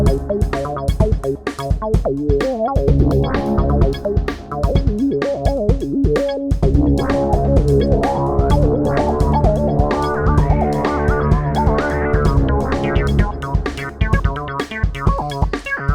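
Music plays in a dense mix with a steady rhythm, the snare hits colored by a sweeping filter effect that shifts the tone over time.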